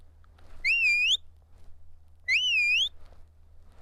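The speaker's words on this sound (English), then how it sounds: "So here's a typical recall whistle." Two identical rising-and-falling whistle blasts, clear and fairly loud, used as a sheepdog recall command, with quiet between them.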